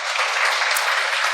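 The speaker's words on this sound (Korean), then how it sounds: "주무관님께 박수 한번 부탁드리겠습니다." Audience applause at a Korean 2019 technology keynote event fills the hall as a dense, steady wash of many hands clapping for a short stretch.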